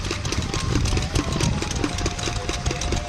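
A large old stationary engine, with a water tank and pump, running at the Henham steam rally, a loud, close, steady chugging and knocking beat with a faint mechanical whine underneath.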